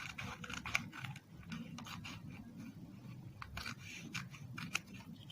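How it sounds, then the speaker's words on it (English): Safety scissors snip slowly through paper in a classroom craft lesson, a series of quiet, close, irregular crisp cuts and scrapes over soft background noise. "take safety scissor and cut it"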